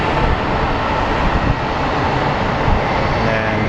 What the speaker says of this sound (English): we do have an A319 that just pulled in